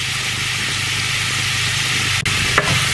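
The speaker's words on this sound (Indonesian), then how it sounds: "Jadi goreng setengah matang gitu ya." Octopus pieces sizzling in hot oil in a frying pan while being half-cooked, a steady loud frying crackle close by with a couple of brief stirring scrapes near the end, no talking.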